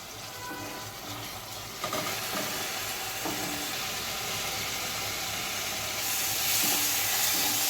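Spice paste for Bengali rohu fish curry frying in hot oil, giving a steady, close sizzle with occasional clinks of a stirring spoon and a brief swell of hiss near the end.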